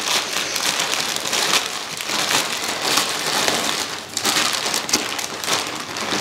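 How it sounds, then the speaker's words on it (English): Paper or plastic packaging from an autumn cider-themed shop haul being opened, giving continuous close crinkling, crumpling and rustling with sharp bursts of crackle, loud and unbroken throughout. "I'm going to open it up now and make loads of rustling noise."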